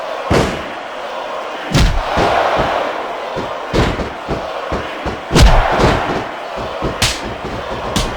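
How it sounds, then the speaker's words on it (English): Arena crowd noise from the WWE SmackDown vs Raw 2006 video game, a loud steady roar with repeated thumps and slams from ring action, no clear chant rhythm standing out. "I'm not sure I agree with what the crowd is chanting, JR"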